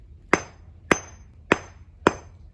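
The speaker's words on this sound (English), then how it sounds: "Okay, maybe this hammer will just work." A hammer strikes four times at an even, unhurried pace, each blow a sharp, ringing impact that decays quickly, close and clear against a quiet background.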